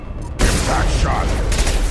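Heavy gunfire-like blasts from the Impact Shot power in the Mass Effect 2 video game. Loud, dense and sustained, with bursts of impact noise filling the whole moment.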